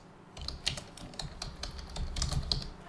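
Keys clatter on a computer keyboard as a short phrase is entered into a slide text box, a quick irregular run of close clicks with a brief pause, alone and without talk.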